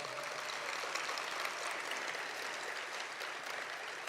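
Applause from an audience at a public service awards ceremony at the King Center, a steady wash of clapping from many hands, moderately distant and continuous throughout, with no speech over it.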